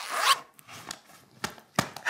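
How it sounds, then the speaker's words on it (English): A bag is zipped shut in a few quick rasping pulls, starting with one longer drag and then shorter bursts, close by and fairly quiet, with no voices over it. "Let's zip our adventure bag together."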